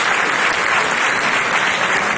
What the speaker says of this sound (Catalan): Després, l'aplaudiment d'aquests esportistes.